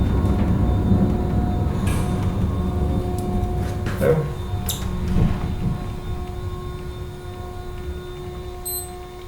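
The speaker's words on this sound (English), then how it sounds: "It was an eastbound Norfolk Southern Triple Crown train heading around the curve." An eastbound Norfolk Southern Triple Crown freight train rounds Horseshoe Curve, with a steady rolling rumble, scattered clanks and squeals and a faint high tone, moderately near and without speech.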